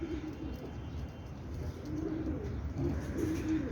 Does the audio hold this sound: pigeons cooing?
yes